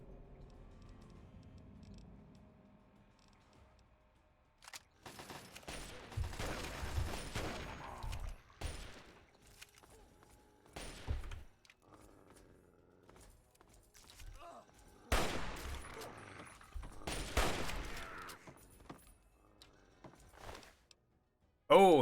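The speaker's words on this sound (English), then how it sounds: "Oh, he's got a lever action rifle." Lever-action rifle and other gunfire in Fallout 3, with bursts of shots clustered in several loud stretches separated by quieter gaps, a voice talking over parts of the fighting.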